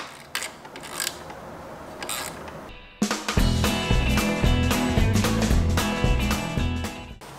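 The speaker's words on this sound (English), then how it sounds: "next up we're going to use a Torx 30 bit and remove our shift lever." Ratcheting tool working a Torx 30 bit to remove the shift lever bolt on a KTM 790/890 Adventure motorcycle in a garage, a few clicks followed by a sustained, loud, rapid ratchet whir close by.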